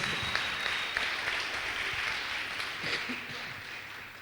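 A church congregation applauding after a sermon promise, steady dense clapping from many hands for several seconds, moderately distant and even.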